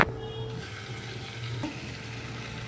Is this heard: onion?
yes